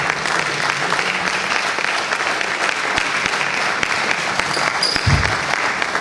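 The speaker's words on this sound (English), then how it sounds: "Let's keep clapping." Audience applause welcoming the host at a leadership and innovation tech event, a steady dense round of clapping from a crowd throughout, fairly loud and continuous.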